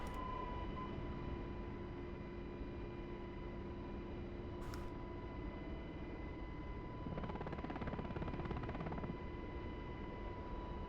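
UH-60L Black Hawk helicopter in a flight simulator game, a steady continuous rotor and turbine drone with constant tonal hum, holding at a moderate level throughout with a brief hiss burst midway and a rougher patch near the end.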